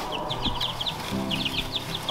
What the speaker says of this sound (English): These are like the funniest chickens ever.